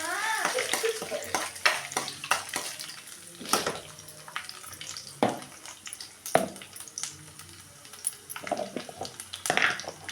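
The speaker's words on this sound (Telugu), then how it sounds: "ఇప్పుడైతే నేను ఎల్లిపాయ అయితే వేసుకుంటున్నాను." Garlic added to hot oil for a tempering in a pan, giving a crackling sizzle with irregular bursts of spattering and a few utensil scrapes and clinks, close by, with a voice faintly present at times.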